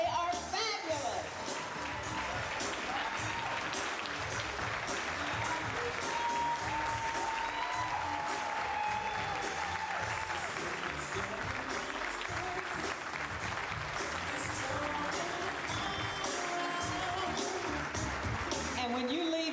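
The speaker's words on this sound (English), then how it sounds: "would you please stand and give all of our honorees a round of applause?" A standing audience at a gala ball gives honorees a long, loud, steady round of applause, dense clapping sustained throughout with a faint crowd murmur beneath.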